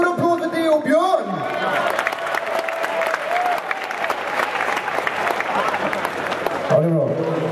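Large crowd applauding at the Dreamhack Summer 2013 main stage, a steady dense roar of clapping and cheering that holds for several seconds, with an announcer's voice at the start and end.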